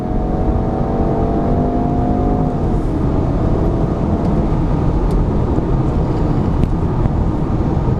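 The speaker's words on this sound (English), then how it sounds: "So in sport mode now, let's see what this 2-liter engine can do." A 2025 BMW X3 with a 2-litre engine accelerating hard in sport mode, heard from inside as a loud, steady engine roar with a rising whine that shifts in pitch partway through, continuous for the whole stretch, no talking.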